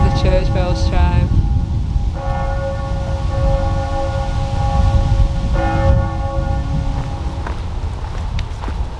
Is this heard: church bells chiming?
yes